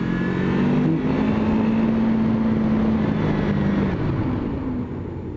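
A Honda VFR800X Crossrunner motorcycle accelerates hard on an open road during a test ride, its engine note climbing in a loud, continuous drone with a steady rising tone, close and with no voices.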